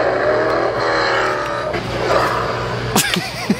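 Built-in sound effects from a toy RC car bought at Target, a loud continuous engine-like revving roar that stays steady, then sharp chirps and squeals near the end, with no talking.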